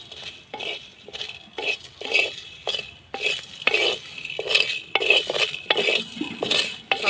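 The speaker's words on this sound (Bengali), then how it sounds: "সব কিছু নেড়ে চেড়ে লাল করে ভাজবো, পুড়ে না যেন যায়" Spoon scraping and stirring dry spices (cumin, chili, pepper, coriander, fennel) as they roast in a pan, a rhythmic series of close metallic scrapes and clinks repeating every half second or so.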